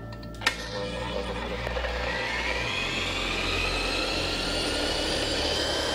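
A heavy 40-pound gyroscope wheel spins up toward 2,500 rpm, giving a steady, rising whir that fills the whole stretch, with a brief knock near the start.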